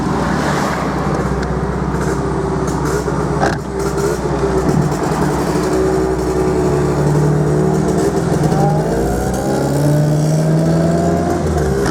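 A 1950 MG TD classic roadster drives along the road, its engine droning steadily with shifting harmonic tones, a brief thump near the middle, and a rough, unpleasant mechanical noise running underneath throughout.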